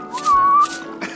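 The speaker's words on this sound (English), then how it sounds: "you can whistle to show you're happy" Someone whistles a short, bright melodic phrase, one sustained rising-and-falling tune heard close and clear with no talking.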